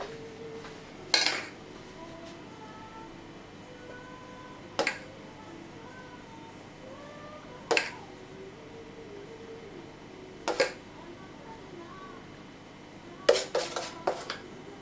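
Spoon clinks against a dish at a few separate moments as lemon filling is spooned into a pastry case for a lemon tart, each tap near and crisp, spaced several seconds apart with quiet kitchen ambience between.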